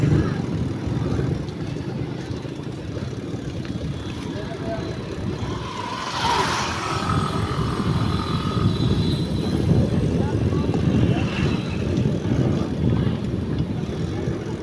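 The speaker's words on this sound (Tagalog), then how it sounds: "Tunog ng big bike." A loud, throaty motorcycle engine roars steadily nearby, with a brief rise as it passes, over continuous road rumble.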